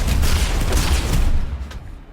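A scatter cannon shotgun fires on a MAX unit in Planetside 2 on PS4, a loud booming blast with dense rumble that fades into a decaying tail.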